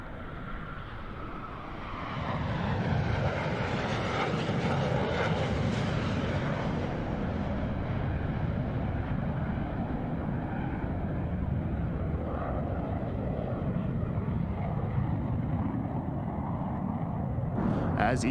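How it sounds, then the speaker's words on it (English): Diamond formation of jet aircraft performing at the SUN 'n FUN 2021 air show, a loud continuous roar that swells after a quieter start and holds steady, broad and rumbling as the jets pass. "As each aircraft accelerates to 500 miles per hour, they'll perform a reversal turn back towards the flight line."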